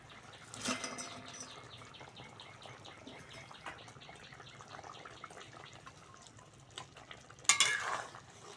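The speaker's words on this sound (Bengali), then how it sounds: "ঝোল অনেকক্ষণ ফুটিয়ে নিয়েছি এবার ভেজে রাখা মাছগুলো দিয়ে দেবো" Fried rohu fish pieces go into a simmering curry gravy, with quiet bubbling and stirring, soft utensil scrapes and clinks, and a sharper clatter near the end.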